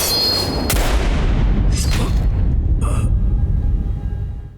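Gunshots in an anime ring out as deep, loud booms that roll and decay over several seconds, with a couple of sharper cracks following, and no talking.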